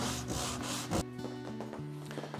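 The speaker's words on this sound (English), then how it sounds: "Bit of sandpaper, fold it up to make a nice crisp edge, 180 grit, no problem." Folded 180-grit sandpaper rubs by hand across the wood of a 1960s cabinet under restoration, a steady close scratchy back-and-forth with several firm strokes, no voices.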